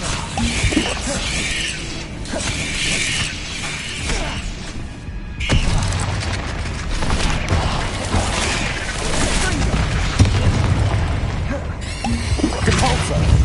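Spells going off in the game Hogwarts Legacy, a steady run of magical blasts, crashes and mechanical clatter under continuous game sound, with a sharp burst near the middle and talk over parts of it.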